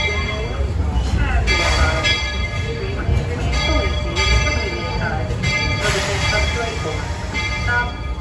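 Walt Disney World Railroad train at Main Street Station, with rumbling rail noise, clanking and bell-like tones, while a voice speaks over the train throughout.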